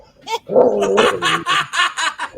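Dog giving a short run of excited yips and whimpering barks, loud and close, with laughter mixed in.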